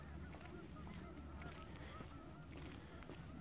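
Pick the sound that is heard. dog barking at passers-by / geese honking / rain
geese honking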